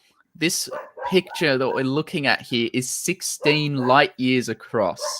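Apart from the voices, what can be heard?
dog barking in the background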